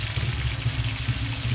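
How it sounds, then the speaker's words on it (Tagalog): A small amount of broth or water poured into a pan of cooking meat and vegetables, a steady low gurgling pour heard close, with no voices. "Ayan, lagyan natin ng konting sabaw o tubig."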